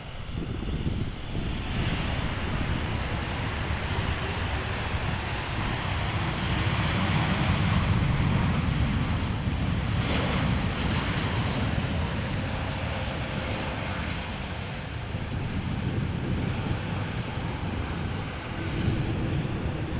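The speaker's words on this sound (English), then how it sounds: "TUI flight 703, Dreamliner arriving from Bonaire 7878." TUI Boeing 787 Dreamliner arriving at Amsterdam Schiphol Airport, heard as a steady, broad jet engine roar at moderate distance that swells slightly midway and holds for about twenty seconds, with some wind.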